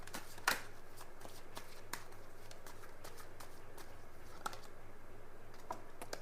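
Tarot cards shuffled and drawn, soft scattered card flicks and snaps over a quiet room hiss.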